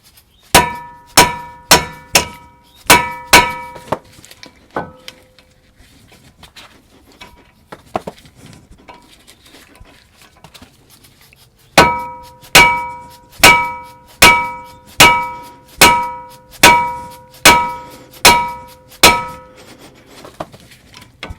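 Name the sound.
hammering a tool onto corroded Torx T30 brake fastener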